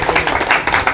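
An audience at a retirees' birthday gathering in Jogipet, Andole mandal, claps together to approve a resolution, a dense, steady patter of many hands close by that fills the whole moment.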